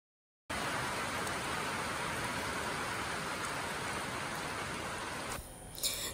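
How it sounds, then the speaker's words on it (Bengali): Heavy rain drums steadily and loudly on a tin roof, a dense unbroken roar that holds for several seconds before easing slightly near the end. "টিনের উপর বৃষ্টির জল পড়লে প্রচণ্ড আওয়াজ হয়"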